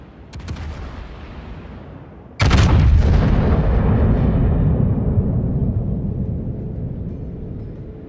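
Naval artillery fires in World of Warships: a small shot is followed by a huge booming salvo that rolls on as a long, slowly fading rumble, loud and close.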